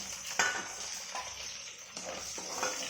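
Cabbage frying with dried red chillies, cumin and onions, a soft hiss of sizzle with a few clinks of a spoon against the pan, quiet and without talk.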